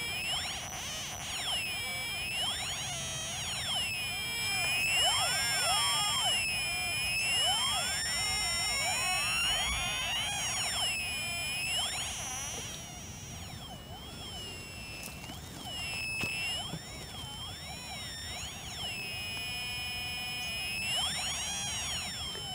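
A homemade ETI 561 metal detector emits warbling electronic tones that continuously swoop and bend in pitch as the signal changes, fairly faint and steady throughout with no talking.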